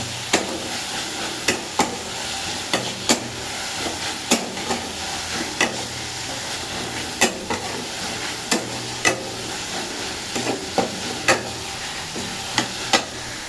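Meat curry being stirred in a frying pan with chili powder, a steady soft sizzle under repeated sharp scrapes of a spoon against the pan roughly every second, close and alone without talk.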